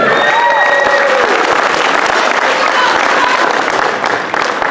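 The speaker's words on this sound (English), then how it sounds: "Can I have applause for Julia?" An audience at a masquerade ball fundraising gala for dance sport education in the Imperial Ballroom claps for a speaker, with sustained, full applause and a few faint whistles or cheers, tapering near the end.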